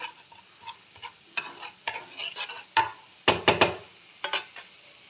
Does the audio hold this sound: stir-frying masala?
yes